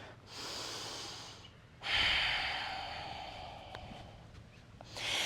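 Deep, audible breaths during a yoga stretch: a long exhale, a brief pause, then a stronger rush of breath that gradually fades, and another breath beginning at the end, close and with no talk.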